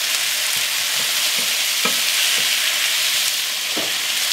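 Sliced zucchini sprinkled with sesame seeds sizzles steadily in a hot pan for a hibachi-style dish, with a few soft rhythmic stirring knocks from a utensil over the continuous frying hiss.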